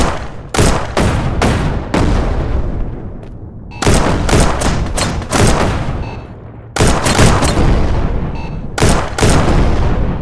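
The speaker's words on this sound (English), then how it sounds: "The turrets and these bots, if they see you, they'll start shooting." Turrets and bots shoot in the Shotwood VR game: loud, close bursts of rapid gunfire come in clustered volleys separated by short pauses, with no voices.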